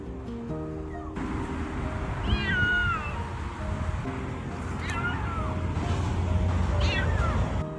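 Stray kitten trapped near water meows in short, thin, rising cries, repeated several times at close range over a steady rushing background.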